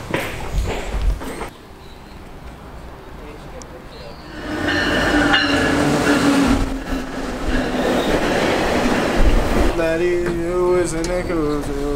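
A commuter train at a Burlington station rumbles steadily as it rolls and idles, with a rising hum partway through and a tonal chime or announcement near the end. Background voices and a loud, busy platform surround it.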